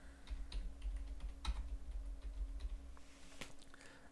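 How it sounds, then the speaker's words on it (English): Quiet, steady typing on a computer keyboard while entering text in an online editor, with soft irregular key clicks over a low background hum. "if you type in here something"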